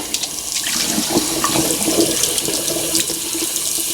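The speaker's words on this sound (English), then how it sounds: "Can you hear how that's gurgling now?" Water runs steadily into a sink drain after a baking soda and vinegar cleaning, gurgling and splashing up close, with no voices.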